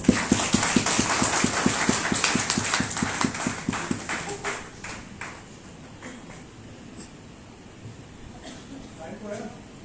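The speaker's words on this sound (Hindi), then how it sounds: "एक बार जोरदार ताली बजा दे तो" Audience at a business meeting claps hard in a dense burst that gradually thins out and fades over several seconds, with a voice talking over the tail end.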